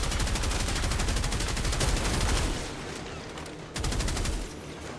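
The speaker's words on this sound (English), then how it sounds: "If I do this, now they're fire bullets." Flaming bullets fire in the video game Warframe as a dense, continuous stream of loud rapid gunshots that eases slightly near the middle, then surges back.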